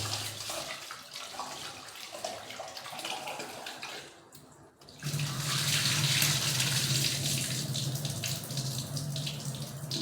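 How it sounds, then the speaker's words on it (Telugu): Tap water runs into a bowl of rice being washed at a home sink, a steady splashing rush that dips briefly midway then returns fuller and louder, with no talking. "ఇప్పటికైతే రెండు సార్లు కడిగిన బియ్యం ఇంకొకసారి కడిగితే మూడు సార్లు అవుతుంది"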